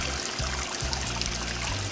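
Water trickling and splashing through a whimsical garden fountain of spirals, pinwheels and a little can, a steady close babble over a low rumbling flow, with no voices.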